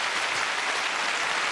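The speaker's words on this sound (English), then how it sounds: "Round of applause." A game show studio audience keeps up a dense, even round of clapping from start to finish, moderately loud and unbroken, with no talk over it.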